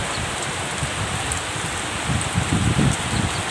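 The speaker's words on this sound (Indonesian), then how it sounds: "Sudah hujan teman-teman. Nah, sudah sekali hujan." Steady heavy rain pours down in a dense, continuous hiss with scattered louder drops near the end, heard alone without voices, during trouble with a Suzuki Shogun R125 motorcycle's spark plug.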